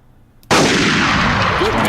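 A loud gunshot from a hunting video game fires suddenly after a quiet moment, its roaring blast and long reverberating tail filling the rest of the short stretch.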